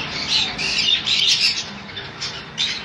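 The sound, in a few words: yellow-sided conure squawking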